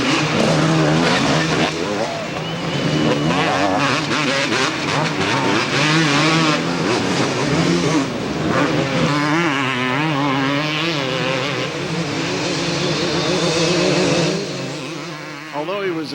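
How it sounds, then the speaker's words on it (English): Motocross motorcycles race around a 1991 AMA Pro Motocross track at Kenworthy's in Troy, Ohio, engines revving and whining loudly and continuously, rising and falling as bikes pass, with a commentator's voice running over the noise. "Here we see Doug Dubach of Chino, California, coming out of the pro section"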